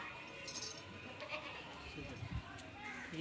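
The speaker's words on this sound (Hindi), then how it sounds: "ये ब्रीडर बकरा है माशाल्लाह, देख लें ज़बरदस्त है" An Amritsari Nagra breeder goat bleats on a village farm in Sahiwal while people talk nearby, the calls short and mixed into voices and farmyard background.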